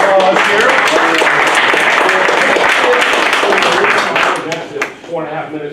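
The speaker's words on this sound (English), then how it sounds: "A big round of applause here." An audience claps at a group event, dense and loud from the start, then tapers off near the end with some voices mixed in.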